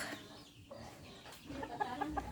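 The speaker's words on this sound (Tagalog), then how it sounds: "Maraming mga manok." A few chickens cluck softly nearby in short, repeated calls against a quiet outdoor background.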